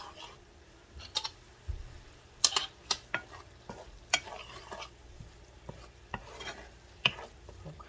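A sauce with alcohol cooking down in a hot pan on a raised heat, a soft sizzle beneath repeated sharp clinks and scrapes of stirring at an uneven rhythm.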